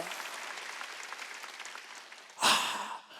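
A church congregation at a Sunday worship service bursts into a short round of clapping near the end, following a stretch of quieter background sound.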